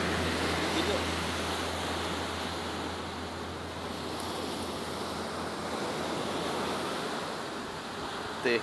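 Steady roar of sea surf breaking on a beach where newborn sea turtles emerge from their nest, a continuous broadband wash of waves with faint wind, close and fairly loud throughout.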